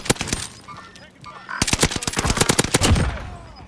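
Enemy gunfire in Call of Duty: Warzone, sharp rapid bursts of shots crackling in quick succession, a short volley then a longer dense burst, fairly close and loud.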